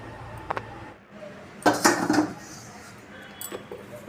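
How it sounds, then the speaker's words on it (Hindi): A metal kadhai is set down on a gas stove with a few close clanks and scrapes, a quick cluster of metallic knocks in the middle and lighter taps before and after. "इधर हमने कढ़ाई रख ली है गैस पे फिर से"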